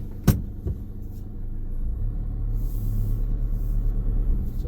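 A 2021 Mercedes-Benz Sprinter Luton 314 CDI van with a 2.1 diesel and six-speed gearbox pulls away in first gear, its low engine rumble building steadily after a brief sharp knock at the start.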